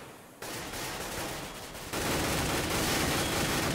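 Counter-Strike gunfire on de_cache in a professional match, a dense continuous volley of rapid shots that grows louder partway through, with no talk.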